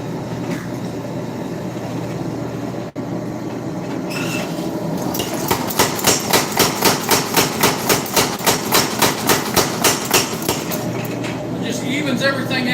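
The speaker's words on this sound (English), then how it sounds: "we're going to run under the power hammer again" A power hammer forges trailer spring steel into a cleaver, striking in a fast, steady train of loud metallic blows after a brief lead-in of workshop noise, and ending abruptly.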